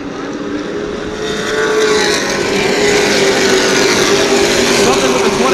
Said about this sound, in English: Now here comes Patrick Thomas in the 111, pulling up in the 4th spot